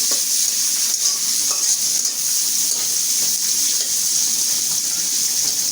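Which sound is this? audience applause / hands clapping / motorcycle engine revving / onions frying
onions frying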